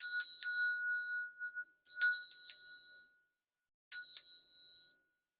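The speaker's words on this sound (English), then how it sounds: "let's just clear the energy space with this lovely Tibetan bell." A Tibetan bell rings in three clusters of bright, metallic strikes, each leaving a clear shimmering tone that lingers and decays, heard close and alone, with silent gaps between the groups.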